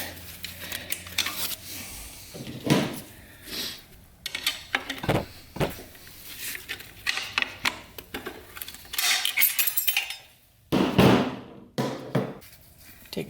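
Metallic clanks, taps and scrapes from removing a beveled snap ring from a 4L80E automatic transmission during a teardown, irregular close knocks with brief pauses between them.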